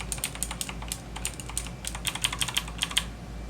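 Rapid clattering keystrokes on an AUKEY mechanical gaming keyboard with customizable RGB backlight, typed in uneven quick bursts at close range with no voices.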